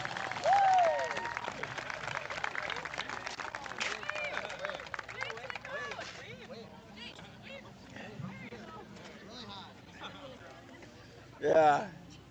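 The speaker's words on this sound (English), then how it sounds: "Listen to that crowd." A crowd at a Thunder Hill Speedway racing event claps and cheers, with a sharp whoop near the start and another burst near the end, voices chattering throughout.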